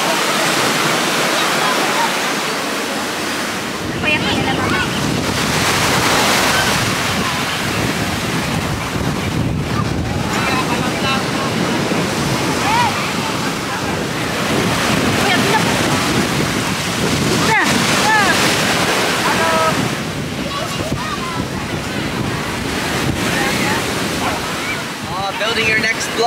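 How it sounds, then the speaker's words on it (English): Ocean waves roll and wash onto a private beach in a continuous loud surge, with wind buffeting the microphone and voices talking over the surf. "So this is like a very nice private beach."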